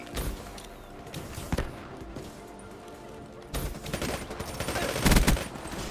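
PPSh submachine gun fire in Black Ops 3, with bursts of rapid shots and impacts rising and falling among in-game noise, loudest near the end.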